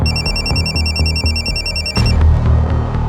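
Electronic phone ringtone in a police station, repeating a bright warbling pattern for about two seconds before it cuts off, with a low background bed underneath.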